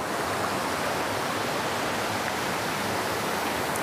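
Clear mountain stream in dense Western Ghats forest rushes over rocks with white water, a steady, loud broadband roar of flowing water, close and unbroken, with no voices.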